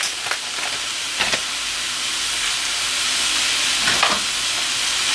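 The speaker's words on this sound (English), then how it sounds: "I'm just going to mince this all around, break up that minced beef, and just keep stirring." Minced beef with chopped garlic sizzles loudly in a pan for chilli con carne, a continuous frying hiss broken by a few scraping stirs of the spoon.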